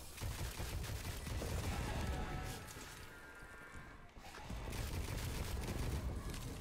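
A pistol fires in a zombie video game, with dense rapid gunfire and bursts of shots forming a loud, continuous clatter that briefly drops off midway before resuming.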